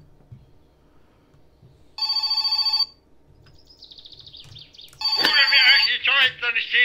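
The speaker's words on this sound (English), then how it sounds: "Damn phone ringing again." A telephone rings in the video game My Summer Car, a single bright electronic ring burst, then chirpy tones and a louder jangling ring, with someone talking faintly underneath.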